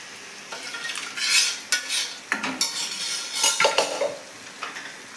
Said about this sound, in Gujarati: દાળ આપણે અંદર એડ કરી લઈએ.